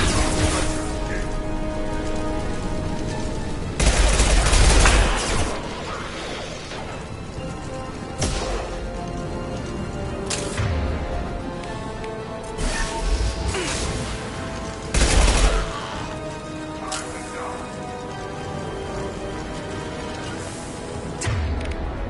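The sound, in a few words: gunfire and explosions in the video game Mass Effect 2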